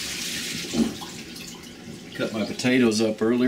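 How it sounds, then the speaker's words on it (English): Water poured off a pot of cut-up potatoes while making Colombian hen stew (sancocho), a brief gushing splash into a sink under a speaking voice. "Pour the water off my potatoes."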